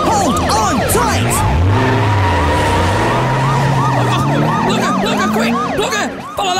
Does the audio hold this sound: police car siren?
yes